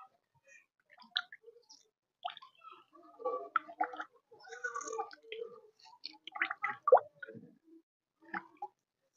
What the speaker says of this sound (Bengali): একদম এইভাবে চিপড়ে চিপড়ে জলটা নিংড়ে নিতে হবে